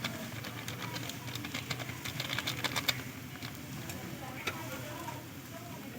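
Dried fenugreek leaves, fennel, cumin and garam masala powder are stirred in a pan over a gas flame, giving soft, steady scraping and clicking with a faint sizzle underneath.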